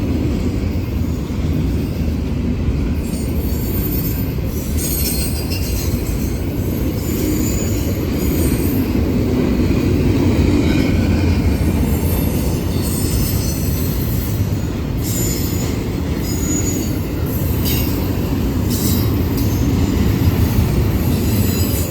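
A Norfolk Southern freight train rolls past at Gaffney, South Carolina, with a loud continuous rumble of wagons, high-pitched wheel squeals cutting in repeatedly over the steady roar, close by and with no talk.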